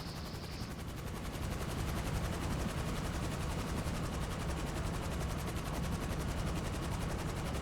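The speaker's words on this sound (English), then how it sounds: "go ahead and land the Avenger" Avenger aircraft setting down in GTA Online, a steady loud mechanical whir with a rapid pulsing flutter like rotors or thrusters, unbroken throughout with no talk.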